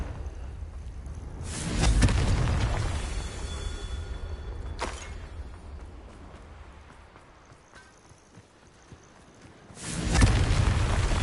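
Confringo blasting spells go off in Hogwarts Legacy, two heavy booming blasts several seconds apart, each rising out of a softer rumbling game background with no talk.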